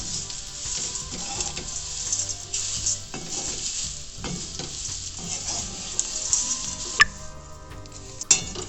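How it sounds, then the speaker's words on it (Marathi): Two kilograms of finely prepared onions roast in a pan over a low gas flame for a Solapur-style spicy masala. A steady sizzle runs throughout, with a spoon stirring and scraping the pan and a couple of sharper clinks near the end. No one speaks. "आता आपण कांदा भाजणार आहे कांदा घेतले आहेत दोन किलो बारीक ठेवून भाजून घ्यायचे"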